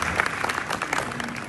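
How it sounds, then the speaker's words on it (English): A conference audience gives a round of applause for a panel on stage, dense continuous clapping close and loud with a faint crowd murmur. "Would we get a round of applause for everyone up here,"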